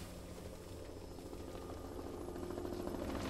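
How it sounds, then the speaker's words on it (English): Large firefighting helicopter flying over a smoky wildfire, a steady broadband rotor and engine roar that grows slightly louder and closer over a few seconds, with no voices. "Another large helicopter has come to help."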